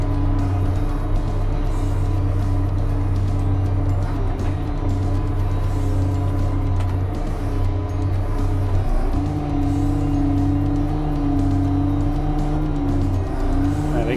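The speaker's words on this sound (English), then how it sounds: "Release the boom lock. And we'll stretch the rear of the machine out." A Caterpillar backhoe loader idles steadily up close as its hydraulics stretch the rear boom out, a continuous droning engine hum with a shifting whine mid-way as the hydraulic load changes.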